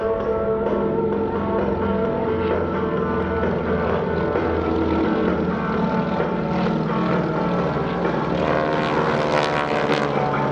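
GEICO Skytypers solo propeller plane roaring overhead during an airshow, a loud continuous engine drone that swells and rises in pitch toward the end as it passes close.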